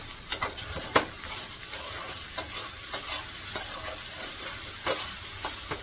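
Soaked sabudana is stir-fried over a high flame, a steady sizzle broken by repeated sharp scrapes and clacks of a spatula against the pan in an uneven rhythm.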